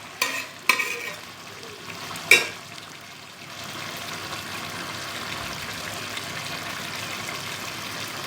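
Chicken pulao rice cooking in a pot as its water dries off, a soft continuous sizzle and bubble with a few sharp clinks of a spoon or lid early on, then a steady low simmer.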